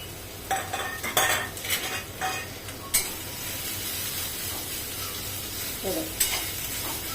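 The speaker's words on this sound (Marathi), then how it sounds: "कढाईमध्ये कांदा छान असा परतवून घ्यायचा आपल्याला" Onion being sautéed in oil in a kadai for spicy misal pav: a steady close sizzle runs throughout, broken by several scraping stirs and clinks of a spatula against the metal pan, with no talking.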